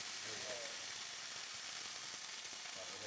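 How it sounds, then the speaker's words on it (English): Plant-based burgers fry in a pan with a steady, loud sizzle and hiss that holds evenly throughout, close up and without a break. "It fries nicely now too"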